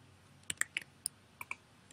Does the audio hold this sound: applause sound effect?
no